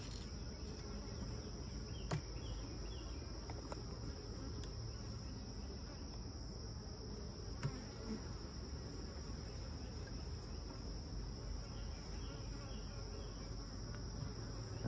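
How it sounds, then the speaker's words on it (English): Honeybees crawl over an old, undrawn hive frame from a swarm trap outdoors, making a continuous faint buzzing hum over a steady insect-like drone. No one speaks. "Got bees on it"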